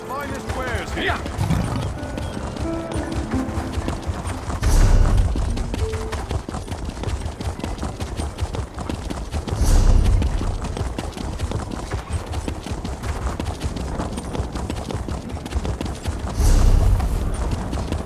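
Horse hooves clip-clop steadily in the Alik'r Desert of the video game Elder Scrolls Online, close and continuous, with louder thuds at intervals and voices talking over the hoofbeats.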